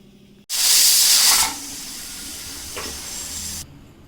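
Lentils boil in a pot with salt and turmeric as steam hisses loudly in a sudden blast, then settles into a softer steady hiss for a couple of seconds before cutting off abruptly.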